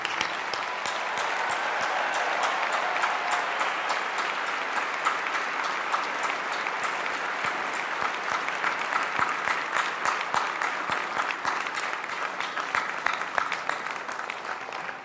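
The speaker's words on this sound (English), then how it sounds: "Please join me in a round of applause for these dedicated Carolina employees." A large commencement crowd at UNC-Chapel Hill applauds Carolina employees with sustained, dense clapping that lasts the whole stretch, with individual claps growing more distinct as it continues.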